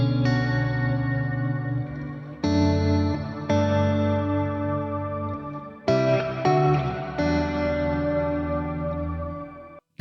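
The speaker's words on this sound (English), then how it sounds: "it's a reverb that also has some pitch effect going on as well. So it often has like a lower octave and a higher octave as well." Electric guitar chords played through a shimmer reverb pedal with added lower and higher octave pitch layers, ringing in long sustained washes that are restruck several times, loud and alone.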